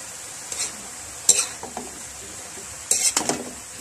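Egg with bitter gourd cooks in a pan under a quiet, soft sizzle, broken by a few sharp scraping stirs in two short bursts.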